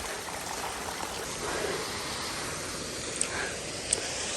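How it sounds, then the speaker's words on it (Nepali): Cold water stream flowing through a forest, a soft, steady broadband rush and trickle heard from close by and unbroken throughout, with a couple of faint tiny splashes near the end. "चिसो पानी बगिरहेछ"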